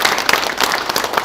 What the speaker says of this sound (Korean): 박수로 좀 환영해 주시기 바랍니다